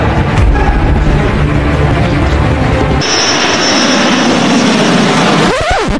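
A loud, steady airplane engine roars throughout, shifting in tone midway as it continues, with a brief rising whine near the end.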